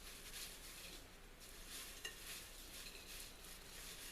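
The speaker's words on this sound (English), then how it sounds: "I'm gonna give this a stir" Chicken vegetable soup starter mix being stirred in a pot, a steady soft scraping and swishing that runs without a break, with one small clink partway through and no voices.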